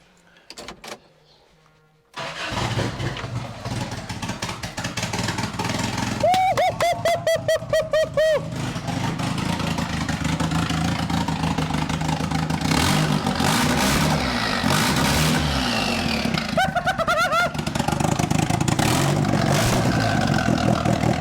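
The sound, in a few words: Toyota street truck engine starting and revving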